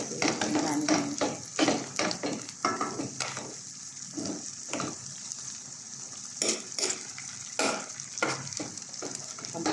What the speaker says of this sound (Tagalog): Haluin lang po natin siya. Haluin ang haluin.